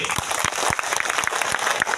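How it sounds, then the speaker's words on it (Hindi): Loud applause from an audience at a gathering in Bihar, a dense wash of many hands clapping with a few sharper individual claps standing out near the front. "एक बार अपने लिए जोरदार ताली बजाइए"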